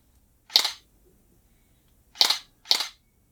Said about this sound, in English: all the shutter is literally just the mechanical open and closing action